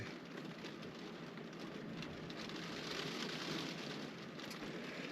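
Steady rain falls during a cold front in early spring in Kashubia, a dense, even hiss of drops on surfaces that stays constant throughout, with no voices.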